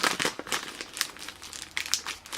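Plastic packaging of Japanese K-pop sticker sets crinkles and crackles close up as it is handled, in a steady run of sharp rustles and crumples with no talking.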